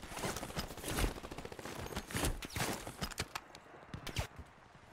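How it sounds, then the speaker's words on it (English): Dense automatic gunfire in the Warzone video game: rapid overlapping bursts of shots, loud and close, continuing almost without a break. "Taking fire."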